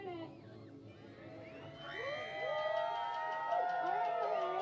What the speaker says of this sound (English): You need to cheer as loud as you can or else you're not going to earn it.